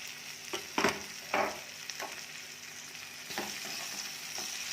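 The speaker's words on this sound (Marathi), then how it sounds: "कांदा भाजला की यामध्ये टाकूया टोमॅटो" Onions frying in a pan with tomatoes just going in, a steady sizzle broken by a few louder stirring scrapes near the start and again around the middle, close and alone with no talk.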